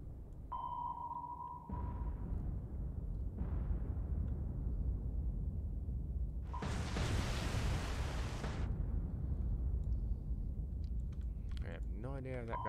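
A submarine torpedo launch in the naval game War on Sea, with a sonar ping followed by a loud, broad rushing burst lasting about two seconds amid steady low engine rumble.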